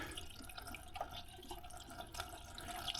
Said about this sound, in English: So here we'll go ahead and add the Prestone coolant flush.